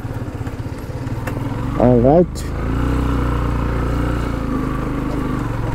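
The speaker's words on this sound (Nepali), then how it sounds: "साइन बाइकको पावर कस्तो हुन्छ देख्नुभयो।" A motorcycle engine labours up a steep, narrow mountain road, a steady close rumble that briefly rises in pitch as it revs, with a voice speaking over it.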